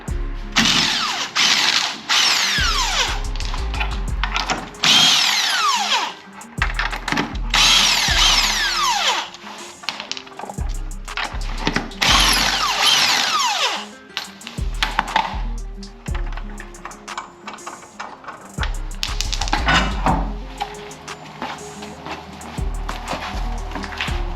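Power impact tool spinning off lug nuts while removing wheels from a Honda Civic race car, repeated loud bursts of high whirring and rattling hammering separated by short gaps, close by, no talk.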